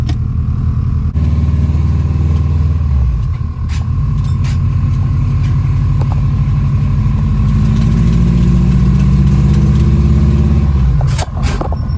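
A Subaru Forester STI (SF) cold-starting with worn rear axles: after a brief quiet moment the engine catches and settles into a loud, steady, rumbling idle that holds until a short click near the end.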